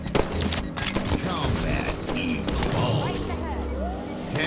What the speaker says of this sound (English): I launch a rocket.